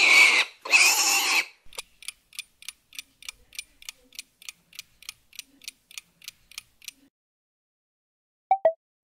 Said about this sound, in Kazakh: Әрине, торай шошқаның төлі.